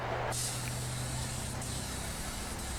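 A spray gun lays HP661 DTA epoxy onto the interior of a 1970 Bronco, a sustained airy hiss that starts abruptly and continues steadily at moderate volume, with a couple of brief pulses.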